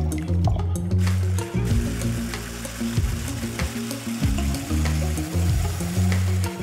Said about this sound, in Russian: А белки взбиваю отдельно,